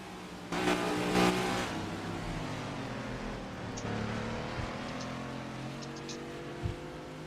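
A number 48 race car roars down the front straightaway at Music City in a racing league, engine revving hard and loud at first, then holding a steady drone with fainter traffic noise behind.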